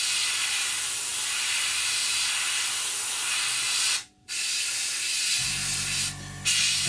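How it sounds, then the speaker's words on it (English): Airbrush spraying paint onto an Academy F-16I SUFA plastic scale model, a steady close hiss that cuts off briefly, resumes, then shifts as a lower rumble joins in. "I'm going to spray on the inside of it only"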